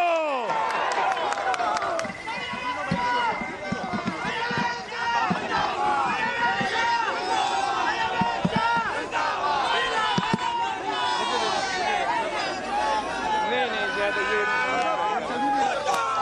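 A packed political rally crowd in Sukkur, Sindh chants slogans for Bilawal Bhutto, many voices shouting in overlapping waves with scattered clapping, loud and dense throughout.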